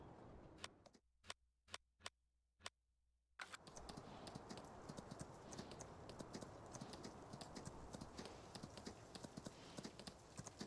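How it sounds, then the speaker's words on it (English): Horse hooves clip-clop in Farming Simulator 19, first as a few sharp, separate steps over near silence, then as a steady, brisk rhythm over continuous outdoor game ambience. "I'm riding horse. It's horse riding time."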